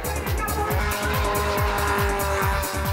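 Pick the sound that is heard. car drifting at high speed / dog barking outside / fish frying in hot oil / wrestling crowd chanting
car drifting at high speed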